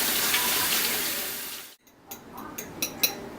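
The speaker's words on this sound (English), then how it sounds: "I'm going to rinse my hands again" Hands being rinsed under a running kitchen tap: a steady rush of water for under two seconds that cuts off abruptly, followed by a few light drips and clinks.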